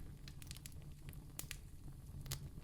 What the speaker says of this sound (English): And listen to that woodwick crackle.